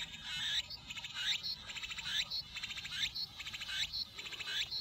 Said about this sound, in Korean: 애매미 소리는 여기 어떻게 들리나? 여기 매미 사운드 박스가 있는데.